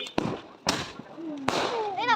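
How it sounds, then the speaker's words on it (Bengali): Firecrackers and fireworks set off for Eid celebrations outside a family home, giving three sharp, loud bangs in quick succession, the last followed by rising whistling shrieks. "সবাই মিলে এখানে বাজি ফোটাচ্ছি"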